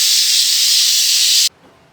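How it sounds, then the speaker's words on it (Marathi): A kitchen pressure cooker whistle blasts a loud, steady hiss of escaping steam for about a second and a half, then cuts off sharply into quiet. "कुकरची शिट्टी झाली."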